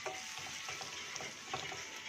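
Sesame seeds and curry leaves crackle and sizzle in hot oil, a soft, dense, even hiss with faint spatters throughout, fairly quiet and with no voices.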